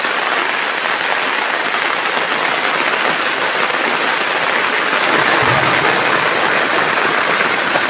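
Heavy rain pours down in a dense, constant roar, loud and close, with no pauses across the whole stretch.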